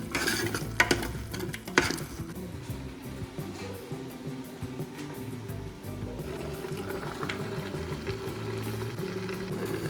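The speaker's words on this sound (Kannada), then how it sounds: "ಮೆಂತ್ಯ ಸೊಪ್ಪು ಹಾಕ್ಬೇಕು. ಚೆನ್ನಾಗಿ ಫ್ರೈ ಮಾಡ್ಕೋಬೇಕು." Tomato and fenugreek leaves frying in a pan for Hassan-style mutton sambar, a continuous low sizzle under stirring, with a couple of sharp utensil clinks near the start.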